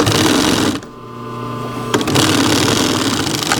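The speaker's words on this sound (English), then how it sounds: "carefully mash or guide all these layers to lay flat as they're being sewn" A sewing machine stitches through layered wool blanket fabric at a shirt collar, running in loud, steady close-up bursts with a brief pause midway before the motor picks up again.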